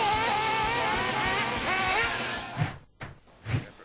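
Four-wheel-drive nitro RC buggies racing, a high buzzing whine of small engines revving and shifting pitch continuously, then fading with a couple of brief passes near the end.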